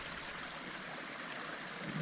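Mountain stream fed by snowmelt trickling steadily downhill, a constant soft rushing and gurgling wash at moderate distance with no voices.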